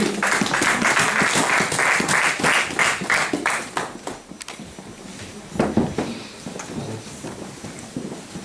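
A church congregation bursts into loud, rapid applause that fills the room, then tapers into scattered claps and quieter moments with a few later bursts.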